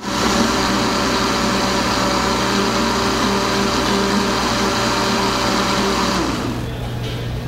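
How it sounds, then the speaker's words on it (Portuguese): A blender runs steadily, whirring loudly as it mixes cake batter with cream and grated coconut, then winds down near the end, alone without talk. "Agora a gente vai bater tudo no liquidificador, exceto a clara em neve"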